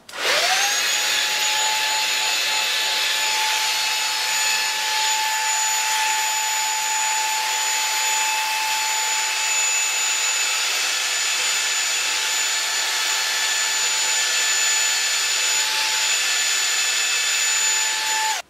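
A fake Dyson-style hair dryer styler blows air in a steady, loud, continuous whoosh with a high whine running through it, unbroken for the whole stretch and with no one talking.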